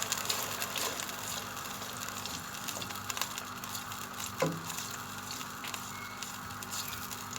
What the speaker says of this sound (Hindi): प्याज को हम उसका कच्चापन दूर होने तक भूनेंगे।